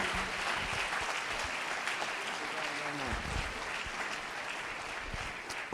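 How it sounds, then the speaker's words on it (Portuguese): A church congregation applauds as a pastor comes forward, sustained quiet clapping spread across the room, with a voice briefly speaking over it. "Aplauda o Senhor até ele chegar aqui."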